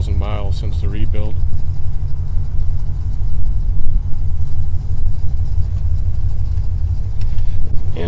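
A 1981 Chevrolet Corvette with a rebuilt engine idles steadily with a deep, continuous low rumble, close and loud, while someone talks briefly at the start.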